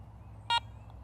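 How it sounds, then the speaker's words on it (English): A Garrett Ace 400 metal detector gives one short, clear electronic beep on power-up, a bright tone lasting about a tenth of a second over a quiet background hum. "To power on the detector, simply press the power button."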